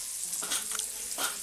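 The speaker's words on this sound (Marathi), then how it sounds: "तवा छान तापला आहे मित्रांनो, त्यामुळे मासा तव्यावर सोडताच लगेच चरकन आवाज येते" Bangda mackerel hits a hot tava over a wood-fired stove in Konkan, giving a brief, faint hiss that swells in a couple of short bursts.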